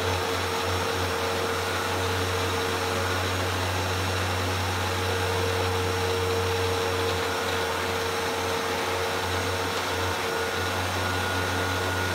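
A Hoover vacuum cleaner runs continuously with its hose pulled out for a suction test, a loud, steady motor whine and airflow hiss that holds unchanged throughout, with no voices.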